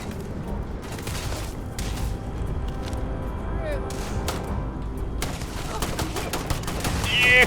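Rapid gunfire rattles through a firefight in the Starfield video game, dense bursts and sharp shots layered over steady ambient noise, building louder toward the end, with no talk.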